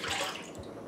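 Ice cream mixture poured into a pan on the stove makes a brief, soft, close splashing trickle.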